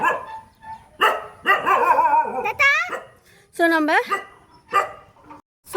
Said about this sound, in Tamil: இங்கே ஒரு நாய் இருக்குல்ல, இதுதான் என்னுடைய அப்பா வளர்க்குற நாய்.